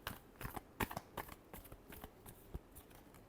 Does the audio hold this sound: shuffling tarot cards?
yes